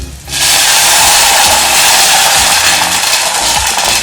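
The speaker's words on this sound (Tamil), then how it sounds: "தேவையான அளவு தண்ணி ஊற்றிக்கோங்க." Water poured into a hot pan holding moong dal with green chili, ginger and curry leaves, giving a sudden loud, sustained sizzling hiss that sets in sharply and holds steady to the end.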